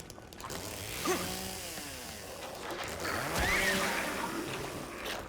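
A chainsaw in the Silent Hill 2 Remake video game, a steady droning motor buzz that rises and falls in pitch, with faint voice-like tones mixed underneath.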